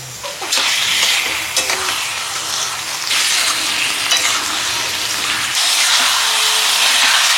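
Mutton keema hits a hot pan with a loud, close sizzle, and repeated scraping strokes of a spoon stir it through a steady frying hiss.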